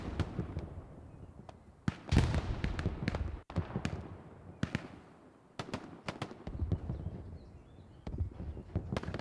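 A grenade explodes during a Hell Let Loose match, heard among a scattered series of sharp bangs and cracks of varying loudness, some near and some more distant.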